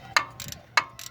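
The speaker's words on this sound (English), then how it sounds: "just put the wrench on it and keep tweaking" A wrench ratcheting on the coolant temperature sensor of a Chevy Equinox engine, giving two crisp, close clicks about half a second apart, each with a softer following tick.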